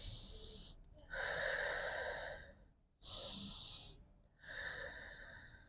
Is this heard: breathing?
yes